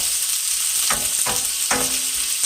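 Vegetables for calabacita squash sautéing in a hot pan, a steady loud sizzle with three short bursts of stirring or tossing that flare the crackle, no talk.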